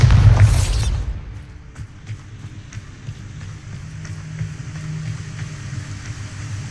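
A Bombarda spell explosion in Hogwarts Legacy: a single loud burst at the start that decays into lower rumbling with scattered thuds and impacts continuing underneath.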